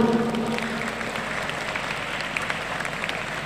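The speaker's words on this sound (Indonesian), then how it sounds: "tepuk tangan dulu." Audience applause at a school orientation session, fairly faint steady clapping from a group spread through the room, continuing evenly for a few seconds.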